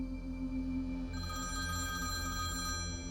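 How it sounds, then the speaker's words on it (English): A hotel lobby telephone rings with a sustained electronic trill, starting partway through and continuing steadily over a low background hum. "the lobby phone rang again"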